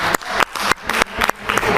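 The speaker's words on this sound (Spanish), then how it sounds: "Un aplauso para los que leyeron la 1" Students in a classroom give a short burst of applause for the classmates who did the first reading. The clapping is dense and close, with a few sharper individual claps over the wash.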